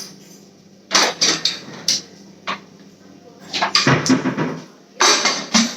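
A metal pressure cooker lid is fitted on and closed while chicken curry cooks in a home kitchen, making a series of sharp metallic clanks and scrapes, some in quick clusters, close and loud, with someone talking between them.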